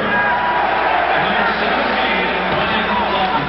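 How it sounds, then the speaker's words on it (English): A hockey arena crowd at a Nordiques vs Jets game in 1990 cheers for Guy Lafleur after his assist is announced, a loud, sustained roar that stays dense through the whole stretch, with a commentator talking over it. "another great cheer for Guy Lafleur as they announce his assist on the goal by McKegney"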